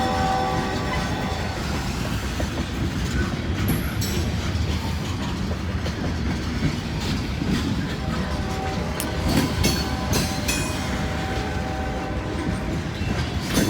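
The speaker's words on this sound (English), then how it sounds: "I believe we got an NS train right behind this one too." Cars of a Norfolk Southern freight train roll by close at hand in a heavy, steady rumble with rhythmic clacking over rail joints, sustained tonal squeal and brief sharper squeaks partway through.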